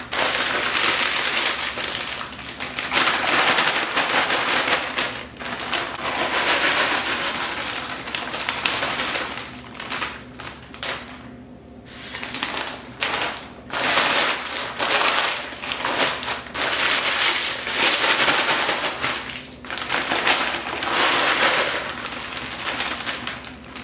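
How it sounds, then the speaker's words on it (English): Potato chips crushed by hand inside a bag, loud crinkling and crunching in repeated bursts with brief pauses, close up and continuing for a long stretch with no talk. "I'll take what I have in my bag and just crush them."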